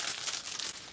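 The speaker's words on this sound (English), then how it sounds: "I'm just going to take it out of the packaging so it stops crinkling" Plastic packaging around an enamel pin crinkling close up, a brief soft crackle of handled film.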